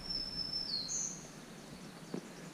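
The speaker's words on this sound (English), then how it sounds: "don't know if you can hear those birds." Faint bird chirps in a quiet forest on a hiking trail in Oil Creek State Park, a couple of thin high calls early on and a brief chirp near the end over soft ambient hiss.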